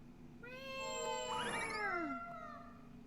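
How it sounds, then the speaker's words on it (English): A cat meowing in the video game Tales of Berseria, one long, rising then falling, drawn-out meow, clear and fairly close over a quiet game backdrop, with no talking. "And now we freed the cat."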